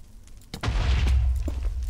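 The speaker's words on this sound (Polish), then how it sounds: "Wybuchło trochę drogi, to tam nic się nie stanie" A single explosion in the Minecraft video game, a sudden nearby boom with a deep, rumbling tail that lingers for over a second after a brief quiet lead-in.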